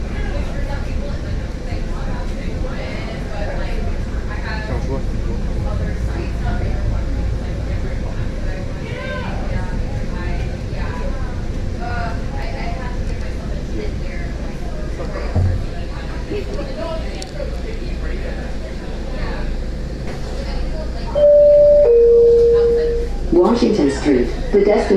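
MBTA Green Line subway train riding through Boston, a steady low rumble and rattle throughout with passenger chatter in the car, and a brief tone and louder clatter near the end.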